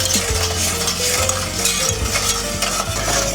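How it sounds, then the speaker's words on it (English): A thin sauce for bread pudding bubbles in a pan while a spoon stirs it steadily, giving close, repeated scraping strokes over a constant simmering hiss. "It wants to bubble up and erupt more. Just keep stirring."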